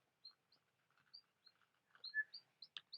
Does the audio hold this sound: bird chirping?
yes